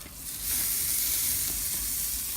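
Steak sizzles loudly on a hot barbecue grill, a dense steady hiss that swells slightly after the start and holds throughout.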